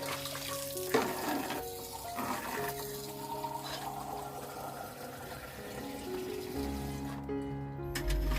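Brass worship utensils are washed in a bucket, with running water splashing and filling steadily at close range while metal pieces knock and clink now and then, ending in a heavier rush of water.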